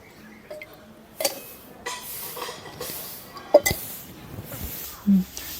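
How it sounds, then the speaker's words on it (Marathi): Oil goes into a kadhai while cooking mutton sukka, with scattered close metallic clinks and taps of the pan and utensils spread through the stretch, a few sharper knocks standing out against a quiet kitchen background. "आता कढईमध्ये तेल टाकून घेते"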